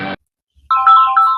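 A phone ringtone for an incoming call sounds from about 0.7 s as a bright, steady tonal melody, fairly loud and near. It follows a short burst of other sound and a brief quiet gap.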